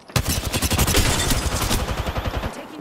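Rapid automatic gunfire in a video game, a loud, steady stream of close shots pounding away in a tight rhythm for a couple of seconds before cutting off.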